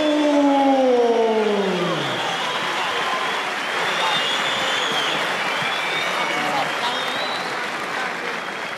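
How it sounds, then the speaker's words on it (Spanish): Loud crowd applause at a boxing event greets a super featherweight boxer; a whooping voice slides down at the start, then dense sustained clapping and crowd noise fill the rest. "Fuerte el aplauso para Lázaro"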